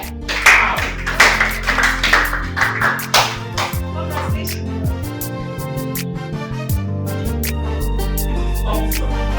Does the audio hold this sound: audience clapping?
yes